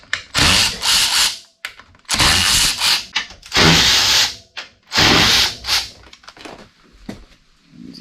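Power tool working loose the hub bolts on a dirt bike during a front-end lowering job, loud bursts of drill-like whirring in several separate runs with short pauses and faint clicks between, close by.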